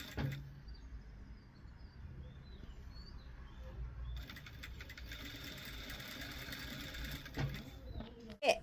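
A sewing machine stitching clothes runs with a steady, continuous whirring drone, joined by faint bird chirps in the background.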